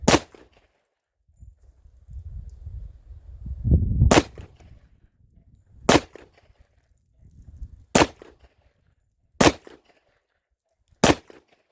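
Six sharp, loud gunshots from a Tisas Yukon 10mm pistol firing reloaded ammunition, spaced irregularly about two seconds apart, with low rustling and handling noise between shots.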